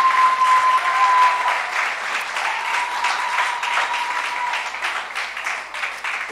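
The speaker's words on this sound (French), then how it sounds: "Oui, on peut vraiment les applaudir." Audience at a national convention closing meeting applauding to thank the church of Troyes, sustained even clapping from many hands throughout, fairly loud and close with a faint tone underneath.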